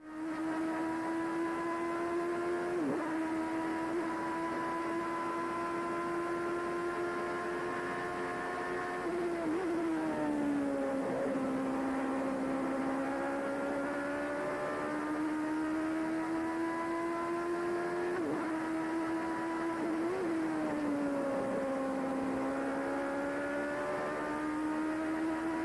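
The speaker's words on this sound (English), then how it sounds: "let the viewers listen to the engine note" A 1989 Formula One car at the British Grand Prix wails at a steady high pitch, with the engine note dipping and rising again at several points through gear changes and corners, heard alone with no commentary.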